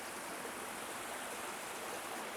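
Water rushing steadily through an old mill water system, a continuous broadband hiss of flowing water, even and moderately loud with no voices.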